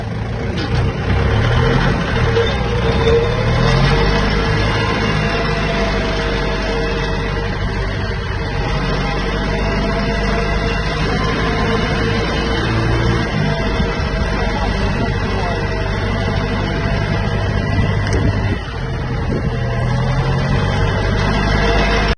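A heavy tractor engine pulling a rotary plough drones steadily and loudly throughout, with a constant low rumble and mechanical clatter under load.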